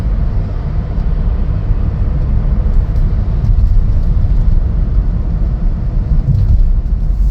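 A 2023 Chevrolet Trailblazer Activ cruising on the road gives a steady, low rumbling drone of engine and tire noise, constant and fairly loud throughout, with no talking.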